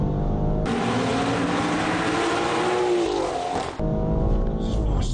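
A tuned BMW X3 M40i SUV, a Stage 2+ build making 480 wheel horsepower, accelerates hard in an industrial area, its engine roaring loud and close with a rising pitch for about three seconds before cutting off abruptly.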